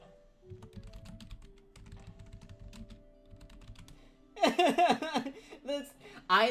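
Rapid tapping on a tappy computer keyboard, close and steady for about four seconds. A burst of laughter and chatter then overlaps it.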